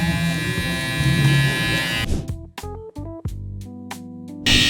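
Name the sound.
hair clipper with half guard flicking up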